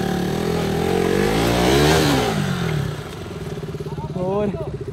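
Motorcycles ride past in a group of bikers, engines rising to a loud revving peak as one passes close, then fading into a lower pulsing idle, with people talking over the engine noise.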